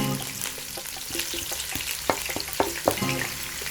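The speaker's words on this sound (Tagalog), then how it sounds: "mag-isa muna tayo ng bawang" Garlic sautéing in a pan for monggo guisado, a steady dense sizzle with scattered crackles and pops and occasional utensil clicks against the pan.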